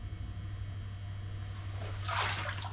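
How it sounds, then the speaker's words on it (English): A rock wool seedling flat is set into a shallow tub of water, giving a soft splash and swirl of liquid near the end over a steady low hum in the room. "I'm just going to barely put it in water."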